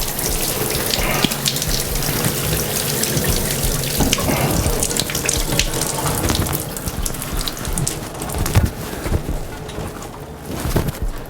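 Water runs steadily from a tap and splashes in a broad, continuous wash, with occasional handling noises close by and no talking.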